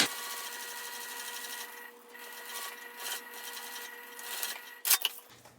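A sewing machine top stitches a seam on vinyl, humming continuously at close range with a slight rubbing texture and a sharp click just before the end.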